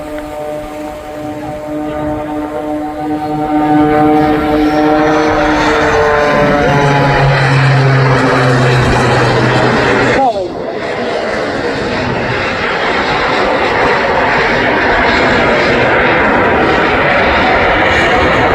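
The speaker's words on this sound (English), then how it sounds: "there are two AMT jet turbine engines additional to the piston engine that you can hear" An aerobatic display aircraft at an airshow, a piston-engined plane fitted with two additional AMT jet turbines, trailing smoke through manoeuvres; a loud, continuous engine drone with rising and falling whining tones as it passes overhead.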